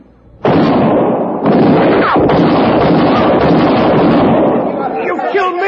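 A gunshot sound effect in a Western radio drama: a sudden loud crack opens into long rumbling, crackling noise that carries on for several seconds, with voices crying out near the end.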